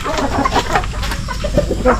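Hens cluck on a backyard farm, several close, overlapping clucks and short calls in a busy, continuous flock chatter.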